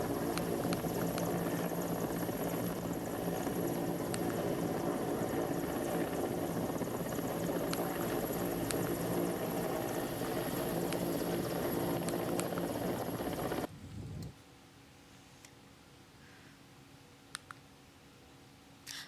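An Army helicopter during a flood rescue gives a loud, steady rotor clatter and engine whine that cuts off abruptly near the end, leaving quiet background with a few faint clicks.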